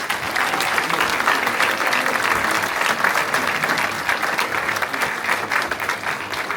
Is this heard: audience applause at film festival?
yes